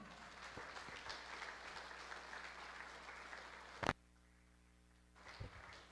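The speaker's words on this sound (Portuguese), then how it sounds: "Você pode aplaudir ao Senhor?" Congregation applauding in a church service, a moderate steady wash of clapping that cuts off abruptly, followed by near silence and a brief renewed burst.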